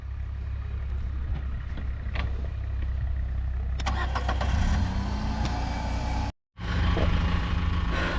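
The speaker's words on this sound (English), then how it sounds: "The Renault Duster diesel 2017 model, of course manual." A 2017 Renault Duster diesel with manual gearbox climbs an incline, its steady low engine drone loud and continuous throughout, with a brief cut-out of sound partway.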